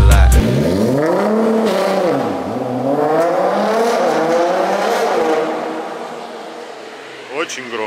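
A Stage 2 Nissan GT-R engine revs loudly, climbing and dipping in pitch as it swells and falls back, with a brief burst near the end; voices talk faintly underneath.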